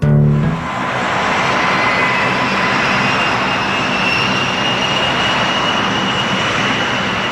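An A-10 Warthog jet aircraft flying, a loud, sustained engine roar and whine with a sharp onset that then holds steady and close throughout.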